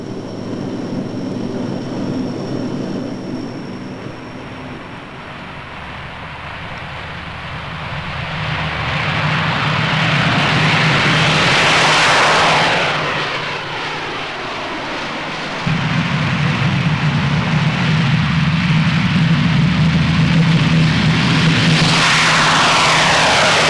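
A Hercules military transport aircraft flies past, its propeller engine drone swelling loud as it approaches, sweeping by, then a steady heavy engine rumble continuing close and sustained.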